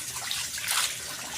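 Running water over chicken intestines being rinsed a second time by hand, a steady broadband wash of splashing and trickling, close and fairly loud, with no talking.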